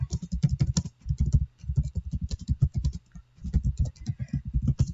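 Fast, close typing on a computer keyboard entering a job description, with bursts of dense key clatter broken by brief pauses.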